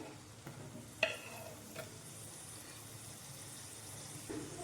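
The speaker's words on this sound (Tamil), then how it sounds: "இப்போது கேப்சிகமும் மஷ்ரூமும் சேர்த்து நல்லா கிண்டி விடலாம்." Capsicum and mushroom are stirred in a frying pan while making a gravy. A steady low sizzle runs throughout, broken by a few soft scraping and clinking strokes of the spoon.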